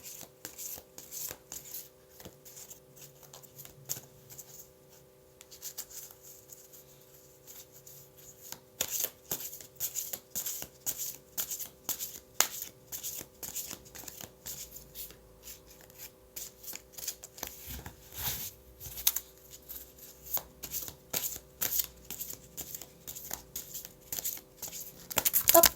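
Oracle cards being shuffled by hand, a soft, quiet run of riffling and rubbing strokes in irregular bursts, close and without voices.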